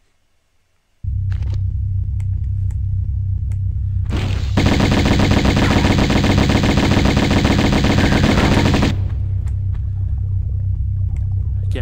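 Rapid automatic Uzi fire from Tomb Raider 1 Remastered, a steady dense burst running about four seconds, loud and close over a constant low droning background tone that continues before and after.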